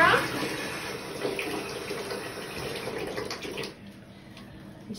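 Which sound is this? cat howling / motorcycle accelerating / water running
water running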